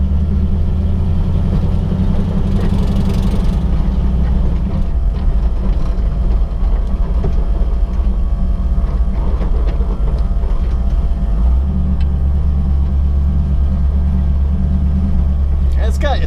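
A pro street Ford Falcon's engine rumbles with a deep, loping idle close by, holding steady with a heavier low throb near the end while a person talks over it.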